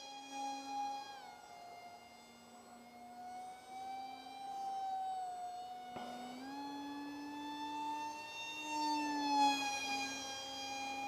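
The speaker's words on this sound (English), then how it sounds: "So some full throttle turning and burning here." An RC Su-27 jet with a Turnigy 2200kv motor and three-blade prop whines at full throttle, a steady high-pitched tone that rises and falls as the plane turns and passes, heard alone from moderate distance.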